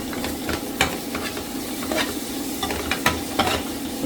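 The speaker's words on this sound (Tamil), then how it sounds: "லைட்டாக அந்த எண்ணெயிலே இதை வேக விட்டோம்னா" Spiced masala for a Tamil fish curry frying in a spoonful of oil, with a steady sizzle and repeated scraping clicks of a spoon stirring it in the pan, heard close and alone.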